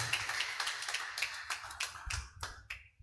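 A church congregation applauds during worship, a crowd of hands clapping in quick, uneven bursts that thin out and fade toward the end.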